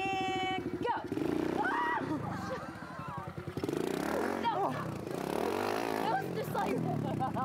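A motorcycle engine revs hard for a moment, with an open throttle, then continues at a lower level under a reporter's voice.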